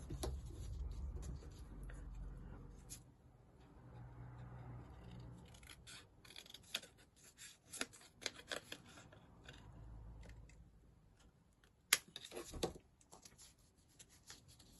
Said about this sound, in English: And then we're going to cut this back bit off.